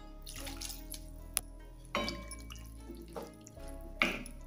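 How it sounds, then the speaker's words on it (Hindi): Water poured from a cup into a pan of aloo gobhi matar curry, a few soft splashing bursts and drips heard close and fairly quiet with no talk. "हम ग्रेवी वाली सब्जी बनाते हैं तो इसमें 2 कप पानी ऐड कर देंगे।"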